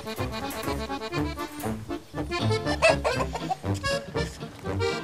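A rooster clucks and squawks loudly and continuously, with busy overlapping agitated calls close to the listener and no talk.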